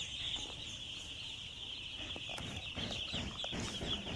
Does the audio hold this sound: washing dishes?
no